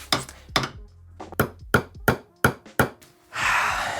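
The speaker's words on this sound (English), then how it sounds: "I'm just going to hammer it on" An M6 nut is hammered onto a rod in about eight sharp, close metallic strikes at an uneven rhythm, followed by a brief rush of broadband noise.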